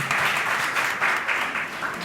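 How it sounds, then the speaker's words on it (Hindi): An audience of students at a medical college in Chandeshwar claps at a symposium on World Elderly Day. The applause is dense and loud for a couple of seconds, with rippling surges and no voices. "मैं चाहूँगा कि ये जो तालियां बजाए ना, मेरे लिए नहीं, आप सभी अपने लिए बजाएं"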